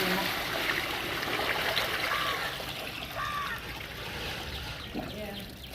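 Bedding trampled underfoot in water to wash it, giving a steady, continuous wash of splashing and sloshing water with a few brief louder splashes throughout.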